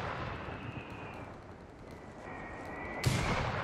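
Indirect artillery fire in Company of Heroes 3, with a dense, rumbling battlefield roar throughout and a sharper blast near the end, no voices.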